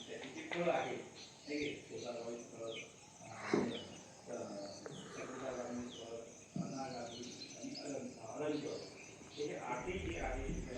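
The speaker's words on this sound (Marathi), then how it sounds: "पक्ष्यांचा किलबिलाट" Light bird chirps and tweets scattered through an outdoor morning scene at sunrise in rural Konkan, mostly beneath a person talking continuously.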